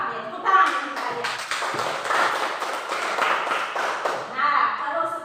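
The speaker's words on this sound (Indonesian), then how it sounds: "tepuk tangan untuk kalian" Classroom pupils clap together in a teacher-led round of applause, a dense patter of many small hands running for several seconds, with a few children's voices mixed in.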